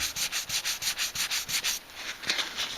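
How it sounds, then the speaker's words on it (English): Sandpaper rubbed back and forth over painted lettering on the panel of a Hallicrafters SX-28A radio being restored, a quick even rhythm of about a dozen close, scratchy strokes, then a brief pause and a few more passes. "if you get a letter that doesn't have enough paint in it, I can go back later and add some and sand it again"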